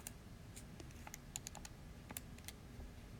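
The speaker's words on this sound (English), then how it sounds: "in the calculator, I'm going to type in 20 squared minus 14 squared." Calculator keys pressed one after another in a quiet room, giving small, sharp clicks in an uneven rhythm over a low steady hum.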